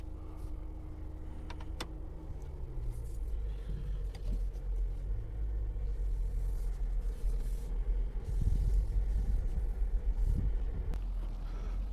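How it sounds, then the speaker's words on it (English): Car idles while parked, its air conditioning blowing in a low steady rumble and whoosh, with faint clicks and small handling noises over the top. "Ooh, AC running."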